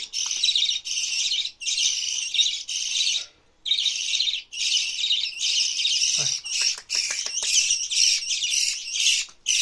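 Baby birds being hand fed give a constant stream of shrill, insistent begging chirps and squawks, loud and close, in rapid bursts with brief pauses.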